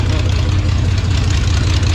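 A V12 engine idles steadily while warming up, a loud, continuous low rumble close by with no revving, alone throughout.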